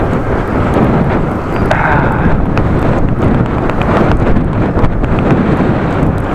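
Heavy wind roars continuously and loudly across the microphone of a cyclist riding a bike on a road, a dense buffeting rush that never lets up.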